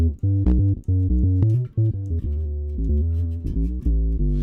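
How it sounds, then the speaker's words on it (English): A Boss OC2 octave pedal on a pedalboard, played loud with thick, low doubled guitar notes that sound synth-like, each note sustaining and stepping through a riff with no talk. "the classic Boss octave pedal"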